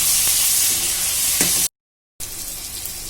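Onion, tomato, green chilli and curry leaves sauté in a kadai for fish kulambu, a steady bright sizzle broken by a short dead silence before the frying hiss returns, with faint stirring taps.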